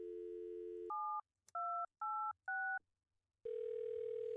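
Touch-tone telephone dialing in the video game Thimbleweed Park: a steady dial tone, then four crisp keypad beeps in an even rhythm, followed by a ringing tone, all clear and close with no talking.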